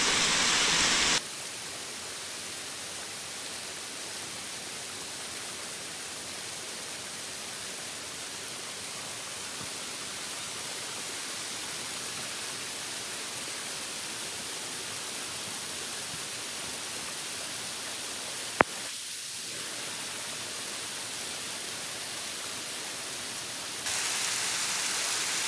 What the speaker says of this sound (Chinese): 现在碰到小瀑布了